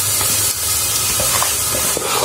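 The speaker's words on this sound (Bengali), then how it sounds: "এখন কষাচ্ছি।" Rice and lentils are sautéed and stirred in a pot with spices for bhuna khichuri, giving a steady, close hissing sizzle with faint scraping and no talk.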